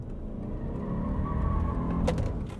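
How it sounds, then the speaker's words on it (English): Another car approaches on the road and passes close by, its engine and tire noise swelling to a peak before easing off, heard from inside a 2020 Subaru Outback during a test drive. "Oh, car's coming."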